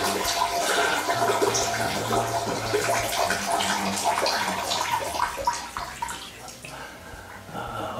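A steady, loud splashing stream pours into toilet water, a continuous hissing trickle that holds for most of the stretch and eases slightly toward the end.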